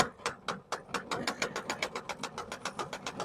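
A retractable garden hose reel winds the hose back in with a fast, regular ratcheting clack, about six clicks per second, close and moderately loud.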